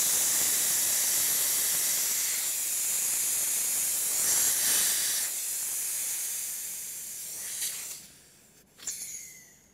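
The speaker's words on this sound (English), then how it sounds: "the Ralston quick test connection will safely self-vent instead of blowing off" A quick-test bulkhead union self-vents pressure in a loud continuous hiss that slowly fades, breaks into sputters, then gives a last brief burst before stopping.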